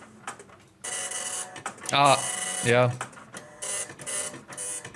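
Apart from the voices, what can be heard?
dot matrix printer printing, played recording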